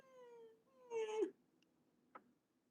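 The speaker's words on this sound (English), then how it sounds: "She's got her little kitten meow." A kitten gives a single high, drawn-out meow up close, followed by a brief squeak, then quiet.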